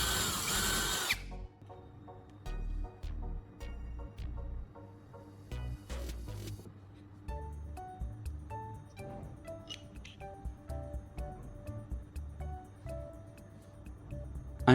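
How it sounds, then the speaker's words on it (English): A power drill bores through the center of an aluminum disc resting on wood, with a loud initial burst followed by intermittent whirring and grinding spurts at close range. "then drilling through the center of the disc"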